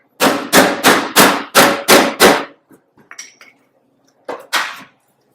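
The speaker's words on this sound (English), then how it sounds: "that's going to allow this to just get hammered and tighten up that contour" Close, loud hammer blows on a metal panel being shaped to tighten its curved contour during a custom build: seven rapid strikes in a steady rhythm, a few softer taps, then two more blows.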